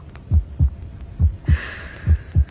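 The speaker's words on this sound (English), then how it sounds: "My own heartbeat." A slow, steady heartbeat thumps six times in a quiet radio-drama scene, each beat a deep, soft, close double pulse against near silence.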